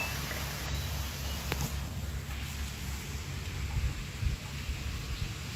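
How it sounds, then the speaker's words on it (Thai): Rain falls outside a house in the early morning as a faint, steady hiss with a low rumble beneath, distant and unchanging, with no one speaking. "ตอนนี้ฝนตกนะคะบ้านพี่กันฝนตกนะคะ"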